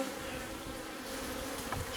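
Honey bees buzzing from an opened beehive, a soft, continuous drone of many bees close by, low and steady throughout with no talk.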